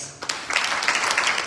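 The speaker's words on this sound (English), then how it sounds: "Please give them a round of applause." A crowd at a Ramayan Yagya gathering in Toronto breaks into applause, the clapping rising quickly after a brief pause and continuing as a dense, lively patter.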